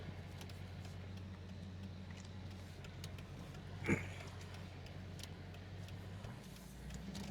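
A car is driven home, giving a low steady engine and road rumble from inside the cabin at a quiet, even level, with a brief clink near the middle.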